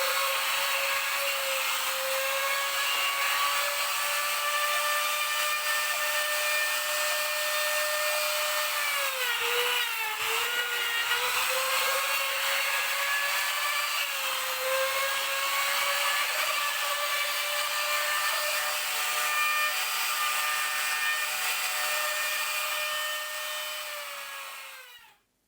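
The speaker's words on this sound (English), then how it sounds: "the flattening process using the router sled" A router sled flattens a live-edge wooden serving board. The router gives a loud, steady, close high-pitched whine that runs without a break for about twenty-five seconds, with a brief dip in pitch midway as the cutter bites, then stops abruptly at the end.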